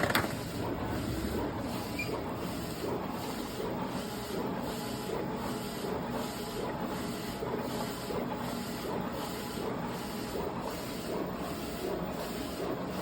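A printer feeds printed film down toward a shaker system, giving a continuous mechanical whir with a steady repeating pulse of rolling and clicking, moderately loud and close throughout.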